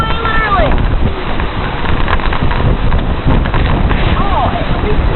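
Strong gusting wind from Hurricane Ike buffets the microphone with loud, continuous low roaring noise, while faint voices come and go beneath it.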